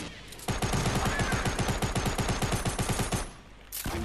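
Rapid automatic gunfire in the video game Planetside 2 rattles off a long, evenly spaced burst of about thirty shots, loud and close, followed by a brief lull and another shot.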